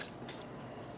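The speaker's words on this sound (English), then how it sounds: "I'm adding on our 8 cups of water" Water is poured into a yarn dye pot in a brief, soft, wet sloshing burst that sounds close and faint, with no speech.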